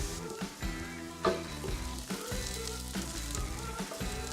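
Pork chops and pineapple fry in reserved bacon fat with butter and seasonings, giving a steady close sizzle with occasional stirring scrapes and clatter and no talking.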